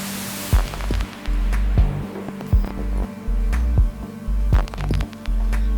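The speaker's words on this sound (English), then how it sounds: "And we'll also throw a compressor down to the kick." A compressed kick drum in a music production thumps in a repeating rhythm, with several punchy low hits per second over a sustained electronic tone.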